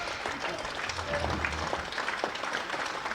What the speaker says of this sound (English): A round of applause from the Essex crowd